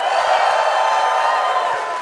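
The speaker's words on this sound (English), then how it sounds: "So when you see or hear something you like, I need you cheering" A convention audience at a PAX East 2025 developer panel for the game Mafia: The Old Country cheers on cue, with loud, sustained crowd cheering and whoops that fill the whole stretch and ease slightly at the end.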